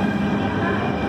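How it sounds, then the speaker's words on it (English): Steady rumbling noise of a České dráhy Railjet train from Prague to Vienna, with a continuous mechanical hum and rattle, close and loud throughout. "that's our train"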